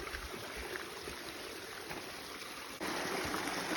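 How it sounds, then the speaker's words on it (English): Water runs down bare rock slabs across a hiking trail on Mt. Paugus, a steady close rushing and trickling that grows slightly louder near the end, with no talking. "this is the trail where the water is running right down the slabs"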